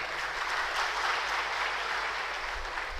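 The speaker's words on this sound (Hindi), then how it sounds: "आप सब मिलकर ताली बजाएं" Audience applause at a college of law inauguration in Lucknow, a dense, steady wash of clapping from a large crowd that fills the hall without a break.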